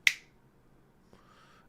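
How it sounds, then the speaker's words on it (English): A single crisp finger snap rings out sharply at the start, close and isolated in a quiet room, followed by a faint brief tonal sound near the end. "I could snap my fingers"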